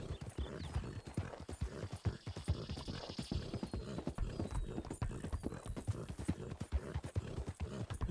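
Rhythmic horse hooves clip-clopping at a steady trot in the video game Red Dead Redemption 2, a Strawberry Roan Ardennes, close and clear, with faint background ambience and a distant whinny-like tone.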